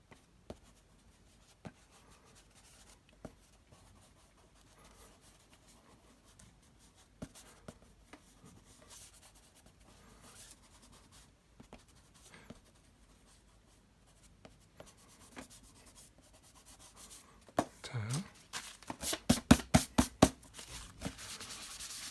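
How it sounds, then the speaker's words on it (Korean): A pencil drawing of the Eiffel Tower, with an eraser rubbing out the upper part to form clouds. Faint, sparse scratching for a long stretch, then a burst of quick, close back-and-forth rubbing strokes at the end. "그런 다음에 지우개 저번에 했듯이 윗부분을 지워준다 그랬어요."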